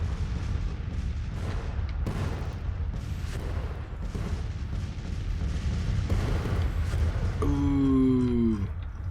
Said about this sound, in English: Cannonballs flying everywhere